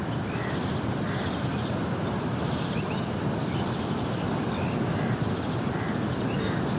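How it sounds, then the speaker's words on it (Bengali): Sea waves roar close by in a continuous, dense rush, mixed with wind buffeting the microphone and no voices. "আর পাশেই সমুদ্র গর্জন করছে"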